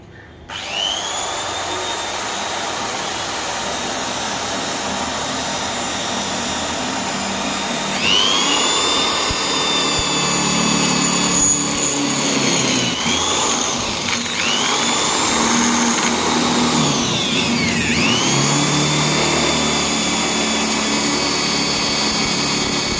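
Power drill whining steadily as it bores holes for a windshield bar on a Mahindra Thar, a continuous high-pitched motor tone that shifts pitch several times under load, loud and close with no talking.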